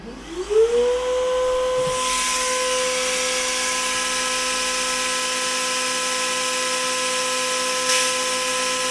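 Cooling fans of a Creality 3D printer running a self-check spin up with a rising whine, then hold a loud, steady mechanical whir and hiss close by, with no talking.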